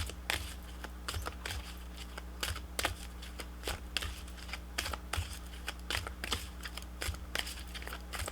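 Oracle guidance cards shuffled close up in a quiet room, a rapid run of soft papery flicks and riffles that keeps going with brief pauses throughout.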